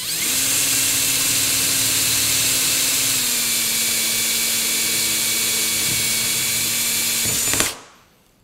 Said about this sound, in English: One of the things as you drill through metal that will kind of let you know you're almost done is it starts to give a little bit and then you pop through.